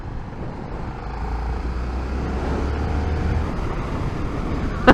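A 2024 KTM 1390 Super Duke R in fourth gear pulls hard with a strong, steady engine roar that swells slightly as it accelerates, with wind rush over the top and no talking.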